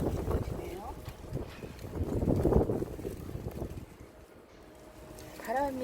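Strong wind sweeps across a rooftop garden of succulents, buffeting the microphone with a gusty low rumble that swells and eases over several seconds.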